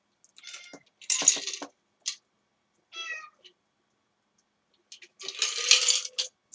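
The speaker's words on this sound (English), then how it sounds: "Oh my god, my cats are so cute." A pet cat meows several times at close range, with short separate cries and a few quick chirps between quiet gaps.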